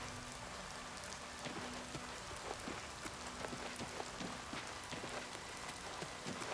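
Steady rain falls in the video game Oblivion, a soft, even patter of drops on surfaces with scattered sharper splashes, faint and continuous with no voices.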